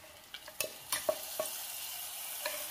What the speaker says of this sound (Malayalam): കടുക് വറുത്തത് കറിയിലേക്ക് ചേർക്കാം